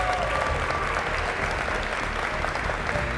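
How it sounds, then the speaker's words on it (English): A crowd applauds steadily and loudly throughout at a school athletes' recognition event, the clapping dense and sustained with no pause. "So give them a round of applause."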